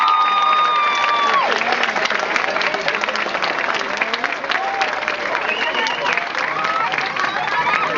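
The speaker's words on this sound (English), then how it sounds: "let's have a round of applause for everyone" Loud, sustained applause from an audience at a National History Day district regional event fills the whole stretch, dense and continuous, with faint voices and a few cheers mixed in.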